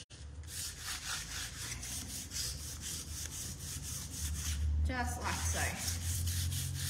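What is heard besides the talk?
sandpaper lightly sanding waxed chalk paint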